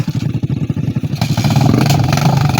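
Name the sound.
motorcycles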